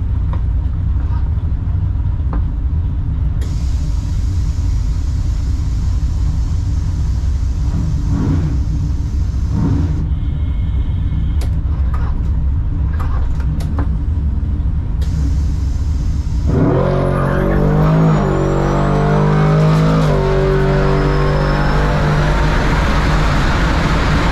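A Tesla Plaid on a drag-strip run: a steady low rumble and road noise, then a sudden louder surge of whine and tire roar as it launches and accelerates away.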